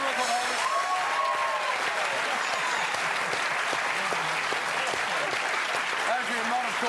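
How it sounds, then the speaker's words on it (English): Studio audience applause on an Australian football TV show, a steady, full burst of clapping and cheering that fills the whole stretch without letting up, with a host's voice faintly audible through it. "Ladies and gentlemen, a round of applause, Adrian Mott, Shane Crawford"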